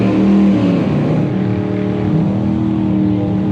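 Drag racing at a strip, a C2 Corvette and a BMW launching side by side, their engines roaring loud and close in a steady, continuous blare with rising and falling revs.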